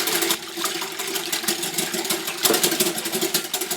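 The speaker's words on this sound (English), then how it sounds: "we'll give that a fast whisk" Milk is whisked fast into chocolate birthday cake batter in a bowl, a rapid, rhythmic scraping and clatter that runs close and continuous.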